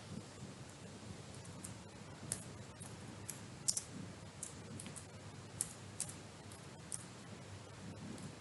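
Computer keyboard being typed on while writing a first Python Hello World program, producing faint, scattered clicking keystrokes with occasional sharper taps over a steady background hiss, no talk.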